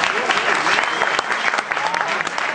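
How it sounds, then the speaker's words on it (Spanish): An audience at a business meeting in Madrid applauds loudly to welcome first-time attendees, a dense, sustained burst of clapping from a crowd with some voices mixed in. "Bienvenidos, denles un aplauso fuerte."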